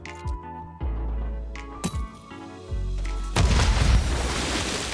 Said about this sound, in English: you want to cook the nade, jump and throw.